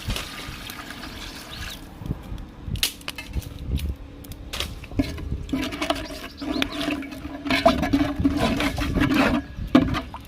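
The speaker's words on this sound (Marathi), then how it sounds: "थोडंसं पाणी ॲड करतो." Water poured into village-style fish masala frying in a pan for a whole katla fish gives splashing, gurgling liquid and crackling bursts that build toward the end.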